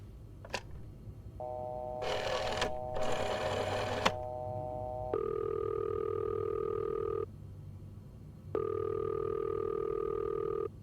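A phone in a horror video game rings repeatedly and nobody answers; the two long electronic rings stand out clearly, with short sharp beeps and a burst of noise before them, and no one speaks.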